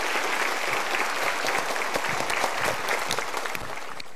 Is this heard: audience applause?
yes